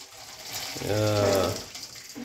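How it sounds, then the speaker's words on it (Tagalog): Salty soaking water is poured off smoked meat during Igorot cooking, a short splashing gush that swells for about a second and then eases off, with a faint voice in the background. "Tapon nyo lang yung tubig niya kasi kanyan, maalat yan"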